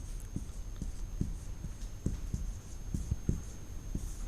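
Chalk or a pen taps and scratches in short, evenly spaced strokes while a balanced chemical equation is written for a science lesson, with a steady faint hum underneath.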